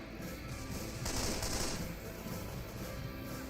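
Rapid gunfire in Left 4 Dead crackles steadily throughout, at moderate loudness, with a denser burst partway through and no talking.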